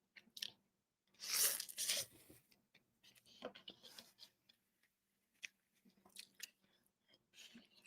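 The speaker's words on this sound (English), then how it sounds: "eating a little noodles for those of you who hate the sound of chewing" Someone eats noodles close up, with bursts of crunching and chewing that come in uneven clusters and a louder stretch near the start. The bites are broken by short pauses, and no voice is heard over them.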